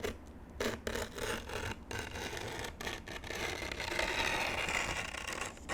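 A blade cutting skateboard grip tape, close and fairly quiet, with a series of short rasping scrapes followed by a longer continuous gritty rub.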